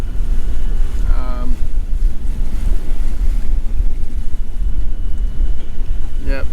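A sailboat motor sailing through the British Virgin Islands, with loud, constant wind buffeting and rushing waves against the hull that mask almost everything else.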